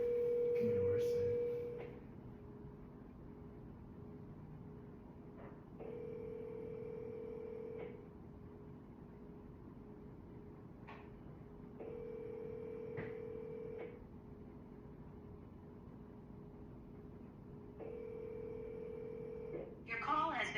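An outgoing phone call ringing through a handset after dialing: a few quick dial beeps, then four evenly spaced ring tones, each about two seconds long with pauses between, faint over a quiet room hiss.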